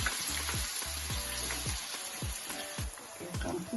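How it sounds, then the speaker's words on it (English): Onions frying in hot palm oil for a West African palava sauce, with a dense, close sizzle and crackle under repeated low thumps and scrapes as the pan is worked. "Now the oil is hot, and we are going to put the onions in."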